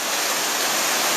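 Havasu Falls, a waterfall of blue-green water in the Grand Canyon, pours with a steady, dense, hissing roar that fills the whole moment, loud and continuous with no voices.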